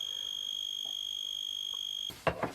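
An electronic device gives off a thin, steady chirp like a cricket, a constant high tone that holds alone and fairly faint before a couple of brief louder rustles near the end.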